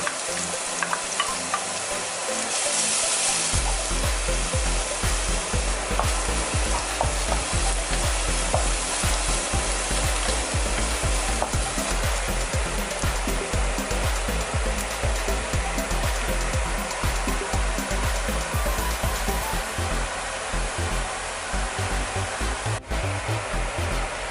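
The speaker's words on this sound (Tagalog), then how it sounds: "Painit ng kawali, lagyan ng mantika at ilagay ang ating garlic." Garlic frying in hot cooking oil in a pan for fried or toasted garlic, a dense continuous sizzle that starts with a burst and then holds steady and loud, with faint stirring scrapes and no talking.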